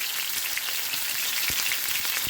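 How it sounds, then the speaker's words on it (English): Steady crackling sizzle of a large beef joint browning in hot oil, a dense, even hiss with scattered pops throughout, close and moderately loud. "You can see there, starting to sizzle."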